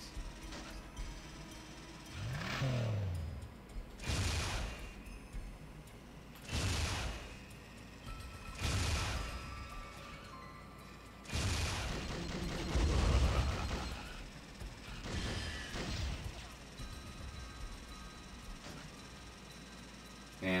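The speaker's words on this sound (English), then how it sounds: "Fire missile." Missile launches in the Twisted Metal vehicular combat game, a series of whooshing blasts spaced a few seconds apart, moderately loud, with engine rumble and mechanical clatter between them.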